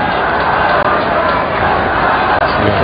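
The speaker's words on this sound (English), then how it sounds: "the crowd getting right behind them" Rugby crowd at a Hong Kong versus Kazakhstan Asian Five Nations match roaring and cheering in a steady, loud, dense wash of voices that holds throughout without a break.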